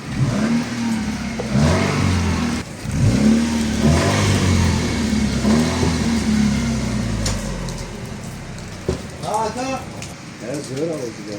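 A car engine revs repeatedly as the gas pedal is pressed, the mid-range roar rising and falling in several surges, with people talking over it throughout.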